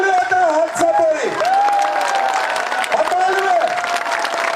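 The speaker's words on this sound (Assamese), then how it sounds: "সকলোৱে এটা হাত চাপৰি" A crowd at a BJP–UPPL political rally in Assam claps and cheers steadily throughout, with a speaker's amplified voice carrying over the continuous applause.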